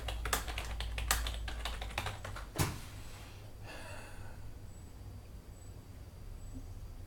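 Quick, close clicks of typing on a computer keyboard in a fast burst with one louder tap, then the keys stop and a faint hum remains.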